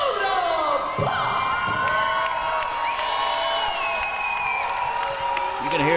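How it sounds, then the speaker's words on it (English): A loud crowd roars and cheers continuously at a wrestling show for a wrestler called Sodapop, with shouts and whoops rising over a steady wall of noise throughout. "You can hear the deafening roar of the crowd here cheering on Sodapop"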